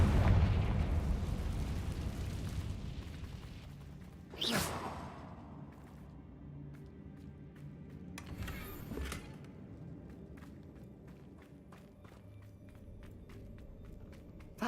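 Confringo blasting curse blasts in Hogwarts Legacy: a heavy rumbling explosion fading at the start, followed by two sharp bursts a few seconds apart, moderately loud over lingering low rumble.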